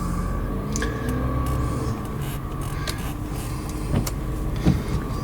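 A 2020 Chevy 2500HD pickup with a parking brake fault drives around the block, heard as a steady low engine and road hum inside the cab with a few light clicks and creaks.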